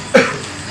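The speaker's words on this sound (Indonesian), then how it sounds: "Gue jadi batuk kan." A single short, sharp cough from a person nearby, loud and abrupt, then quiet.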